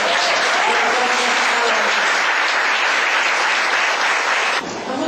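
Congregation applause during a church service, a steady dense wash of many hands clapping, loud and close, cutting off sharply near the end.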